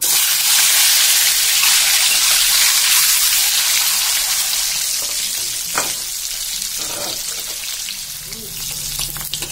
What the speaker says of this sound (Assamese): এতিয়া মই ফাৰ্ষ্টতে ডিমকেইটা ধুনীয়াকৈ ফ্ৰাই কৰি লওঁ